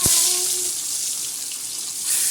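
Fish dropped into hot oil in a preheated kadai, giving a steady loud hiss and sizzle that swells again near the end.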